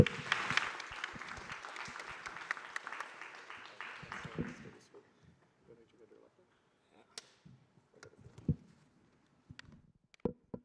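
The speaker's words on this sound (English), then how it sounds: "Clap." Audience applause at a technology conference session, a burst of clapping for about five seconds that quickly thins out to a few scattered claps and small sounds.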